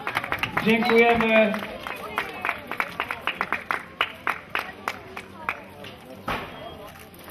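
Audience applause at the close of a cycling road race stage in Kobyłka, Poland: a burst of clapping from a crowd, strongest early then thinning to scattered individual claps, with an announcer speaking over it.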